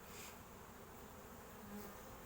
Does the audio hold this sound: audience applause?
no